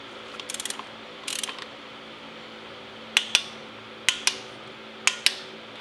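A torque wrench tightening Torx bolts on a high-pressure fuel pump: two short bursts of close ratcheting, then three pairs of sharp, evenly spaced metallic clicks, with no talking.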